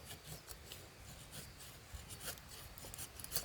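An Ontario bushcraft machete scrapes wood shavings off a stick in quick, faint rasping strokes, close and quiet, with no talking.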